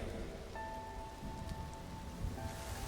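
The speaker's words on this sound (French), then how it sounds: "Sens la pluie qui tombe" Steady rain falls throughout with a low, continuous rumble underneath that may be distant thunder, joined by a soft sustained musical tone in the background.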